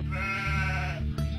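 Lambs bleat in a steady, wavering cry that fills most of the clip, loud and close, with a short break near the end.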